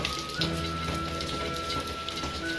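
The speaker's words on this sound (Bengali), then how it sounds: "ঘন্টা খানিকের ওপরে হয়ে গেল বৃষ্টি হয়ে যাচ্ছে" Steady rain patters densely on surfaces close by, with a faint constant hum beneath and no talking.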